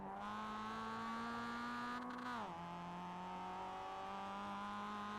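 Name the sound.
Mazda MX-5 engine accelerating at Oulton Park, iRacing video game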